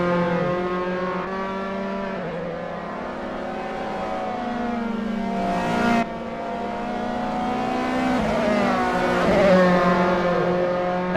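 Dallara F312 open-wheel race cars in Assetto Corsa at Dragon Trail Gardens, high-pitched engines wailing steadily, with gear shifts and rising revs as cars run close together, loud and continuous with no talk.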